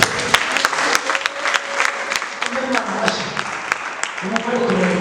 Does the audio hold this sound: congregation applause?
yes